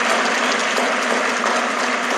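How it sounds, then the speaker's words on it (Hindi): Sustained applause from a large audience honoring business leaders at a corporate success event, a dense, even wash of clapping filling the whole stretch without pause. "जोरदार तालियां इनके लिए।"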